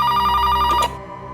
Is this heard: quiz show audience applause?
no